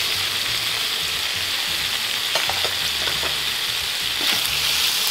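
Lemongrass, tomatoes and green onions fry in a pan, giving a loud, continuous sizzling hiss with occasional light stirring scrapes close by and no voices.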